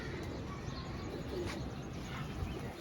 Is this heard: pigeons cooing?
yes